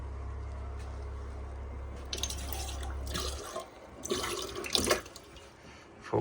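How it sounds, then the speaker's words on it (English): Boat water pump running under the floor of a trimaran during refit, a low steady hum for the first few seconds that stops, followed by watery splashing and trickling; faint and muffled, no voices. "Yeah, that water pump is, yeah, a lot quieter."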